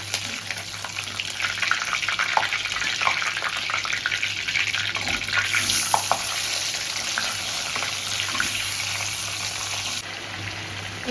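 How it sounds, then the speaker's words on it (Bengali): Bhetki fish pieces fry in hot oil with bay leaf and white cumin, producing a continuous, close, hissing sizzle with scattered pops. The sound stays fairly even throughout, with no talking. "এইভাবে পাশাপাশি সব মাছগুলো নিয়ে ভাজতে থাকলাম।"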